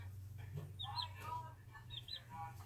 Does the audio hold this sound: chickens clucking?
yes